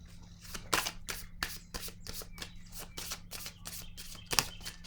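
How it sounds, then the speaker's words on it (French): Close, soft riffling as a deck of cards is shuffled in quick repeated bursts, each a brief papery flutter, in a quiet room without talk. "Je vais piger une carte pour ici."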